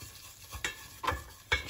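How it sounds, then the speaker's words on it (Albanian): Butter and flour fry in a pan as the base for a cheese sauce, with a soft sizzle under three distinct scraping stirs spaced about half a second apart, close and fairly quiet. "Ja ku Hekri po skuq pak qalt dhe miell."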